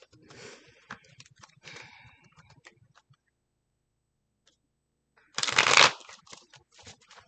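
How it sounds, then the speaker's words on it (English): A deck of cards shuffled by hand in two bursts of riffling and flicking, the second louder and closer, separated by a quiet pause. "Shuffling."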